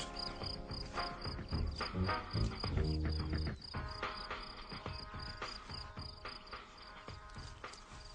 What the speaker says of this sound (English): House crickets only live on warm ground